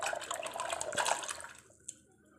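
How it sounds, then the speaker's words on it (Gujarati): Washed chickpeas (chole) tipped into water in a pressure cooker with bay leaf and cardamom, a soft splashy pour lasting about a second and a half, then a faint drip. "હવે આપણે એડ કરી દઈશું છોલે"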